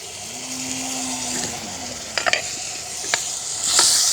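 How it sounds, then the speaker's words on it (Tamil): Garlic, curry leaves and fennel seeds sizzle in oil for a village-style Sri Lankan fish curry, a close crackling hiss broken by a few sharp spoon scrapes against the pan. "நல்லா கிண்டி பொரிகிறதுக்கு விடுவாங்க"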